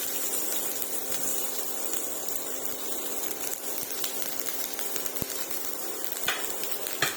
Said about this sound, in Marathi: आता ह्या गरम पॅन मध्येच आपण 1 चमचा आपण याच्यामध्ये तेल घेणार आहोत आणि या तेलामध्ये उभा चिरून घेतलेला कांदा घालायचा आहे.